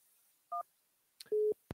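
A telephone line gives a couple of short electronic tones after a caller hangs up during a radio call-in show, brief clean beeps against near silence with a click at the end.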